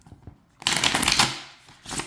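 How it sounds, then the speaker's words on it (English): Plastic tarot card deck shuffled in reverse, a couple of soft taps followed by a crisp riffling burst of cards that fades out, then a shorter second flutter, close and clear. "I'll shuffle backwards."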